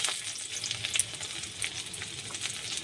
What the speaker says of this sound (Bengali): তেল প্রচণ্ড গরমও হয়ে গেছে এবার তেলে দিয়ে দিলাম হচ্ছে রসুন